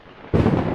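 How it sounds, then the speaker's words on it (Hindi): A deep thunder rumble breaks in suddenly and loudly, a broad roar that holds steady for about half a second with no talk. "बादल गरजने की आवाज से वो अचानक ही झटके से उठ जाता है"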